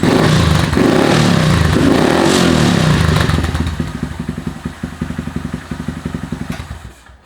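A Honda Grom fitted with a Tyga high mount exhaust, baffle removed, roars loudly through sustained revs inside a garage, then drops to a choppy, rhythmic idle that fades out.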